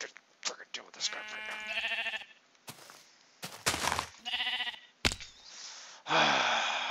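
Black sheep bleating in Minecraft, several short wavering game bleats repeating in bursts at moderate loudness, with a voice talking between and over them.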